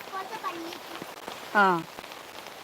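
Rain falls steadily through the whole stretch, a soft even patter under a voice, with a short louder call or cry cutting in near the middle.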